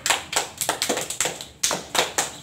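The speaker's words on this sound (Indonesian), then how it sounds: "kita beri tepuk tangan dulu untuk kelompok 1" A third-grade class claps for group 1 in a schoolroom, with a burst of sharp, uneven hand claps close by, roughly a dozen loud claps with a brief gap midway, no voices.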